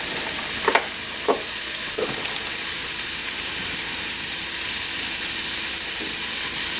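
Crumbled mushrooms fry in coconut oil in a hot pan, a loud, steady close sizzle broken by a few light scrapes and stirs.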